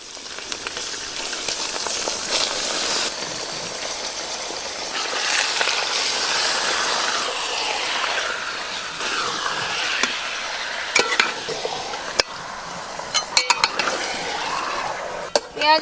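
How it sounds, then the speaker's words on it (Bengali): Mutton fries with browned chopped onions in a pot, a steady hiss of sizzling under repeated scraping of a metal spoon and pot clatter, with sharper clinks toward the end. "পেঁয়াজের সঙ্গেই প্রথমে খাসি মাংসটা একটু ভালো করে ভাজা ভাজা করে নেব।"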